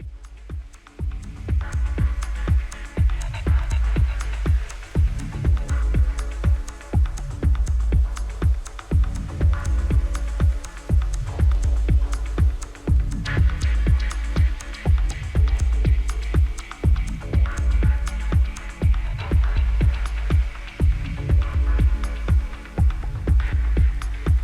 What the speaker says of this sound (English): It has that sort of the hiss going on in the background and some really cool bass elements